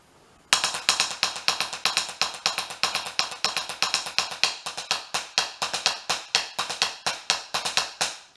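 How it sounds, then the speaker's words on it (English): A steady, repeating bamboula rhythm of sharp hand-struck drum hits, evenly paced and fairly loud, continuing alone without any voices. "So Bamboola is like this."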